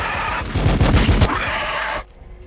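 Rapid bursts of automatic gunfire from the video game Warhammer 40000 Battlesector crackle loud and close for about two seconds, then cut off abruptly into near silence.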